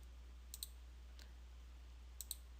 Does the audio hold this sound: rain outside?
no